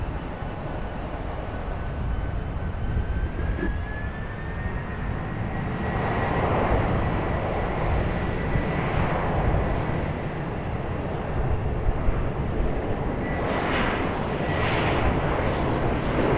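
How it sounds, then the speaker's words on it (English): Aircraft engine roar at Raleigh Durham International Airport, a steady loud rumbling drone of a passing plane that swells and holds through the whole stretch, with no talking. "So we're just here to enjoy the planes."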